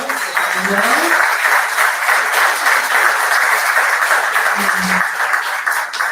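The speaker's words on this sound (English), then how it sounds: "Little applause for yourselves." A seated audience at a small-business launch gathering in St. Joseph, Minnesota gives a steady, dense round of applause that holds evenly for the full stretch, with a brief murmur of voices underneath.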